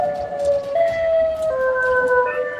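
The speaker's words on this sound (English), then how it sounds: "I know that siren." A wailing siren with steady tones that shift in pitch, loud and continuous throughout, with no voices.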